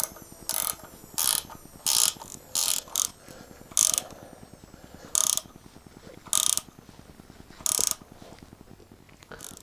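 A ratchet wrench tightens the bolts holding a windscreen on a motorcycle, giving a steady fine clicking with sharp louder bursts of ratcheting strokes at irregular intervals, close and alone.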